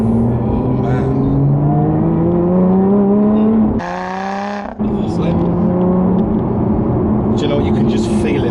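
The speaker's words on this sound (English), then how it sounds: "You can just feel it wanting to keep pulling all the way up the rev range." A Lotus Evora 400 engine accelerates on the road, its tone climbing steadily through the revs, briefly cutting on a gear change, then pulling again, loud and heard from inside the car under speech.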